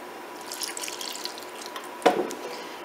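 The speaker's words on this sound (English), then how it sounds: "So, add a little more milk." Milk poured into a turkey dressing mixture in a kitchen: a soft, wet trickle followed by a brief, louder liquid splash near the end, close by and without talk.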